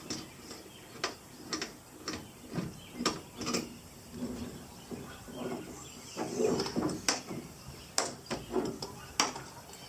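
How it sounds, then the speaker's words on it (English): A sailboat halyard is undone and runs through its pulleys and fittings, giving a steady series of sharp mechanical clicks and ticks, close by, with a few louder rattling bursts along the way. "I'm going to undo this halyard."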